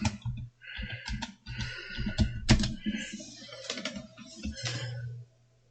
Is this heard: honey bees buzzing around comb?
no